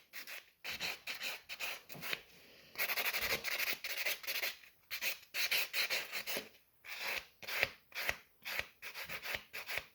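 A white nail buffer files and shapes gel nail extensions in repeated short back-and-forth rasping strokes, close and fairly quiet, rhythmic with brief pauses between passes, no voices.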